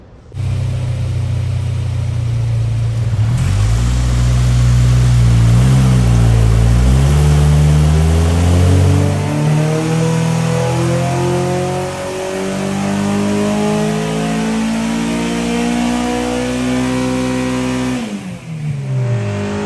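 K24-swapped 8th gen Honda Civic coupe engine revving hard during a tune, a loud sustained roar that climbs and falls through repeated throttle sweeps and holds high for long stretches before dropping off near the end.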